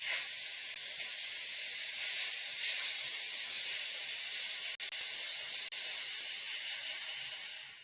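Water hisses hard on a hot spoon, a loud, continuous steamy sizzle that lasts nearly eight seconds, broken by two brief sharp cut-outs near the end.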